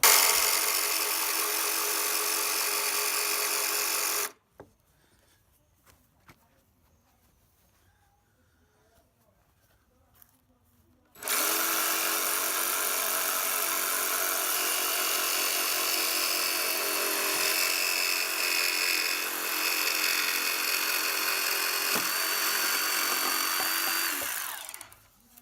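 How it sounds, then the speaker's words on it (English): Cordless jigsaw cutting around the corners of a panel on a VW T25 campervan, a loud buzzing saw running for about four seconds, a quiet pause, then a longer continuous cut of roughly fourteen seconds. "So now I've got to get the jigsaw and just cut around these corners"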